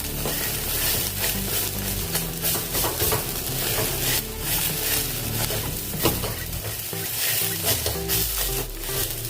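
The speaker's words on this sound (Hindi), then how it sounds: "ऐसे चम्मच से इसको चलाते जाइए।" A spoon keeps stirring a spinach, ginger-garlic paste and cornflour mixture around a non-stick kadhai for a soyabean roll filling, giving steady scraping and soft sizzling throughout, close and continuous.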